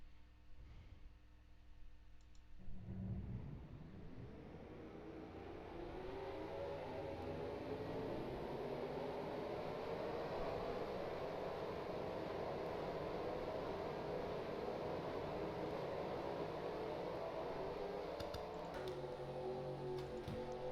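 Racing truck engines rolling off in a sim racing game at Gateway, a low engine drone that swells after a few seconds and holds as a steady, dense roar for the rest.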